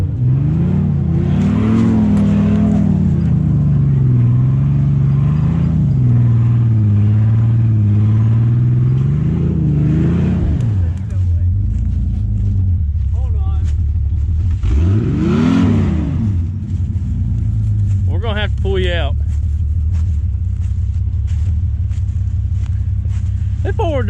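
A stuck 4x4 truck engine revs hard in rising and falling surges, close and loud, with people talking over it.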